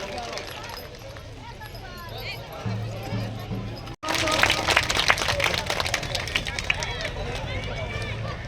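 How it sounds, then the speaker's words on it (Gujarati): An audience at a Thakor community religious gathering at the Shri Velnath Bapa shrine on the Mandal-Dasada road near Ahmedabad bursts into dense, loud clapping after a brief break, with crowd murmur and voices mixed in. "બે તાળીઓના હાથ બંને હાથ ઊંચા કરીને આપણે અભિવાદન કરશું"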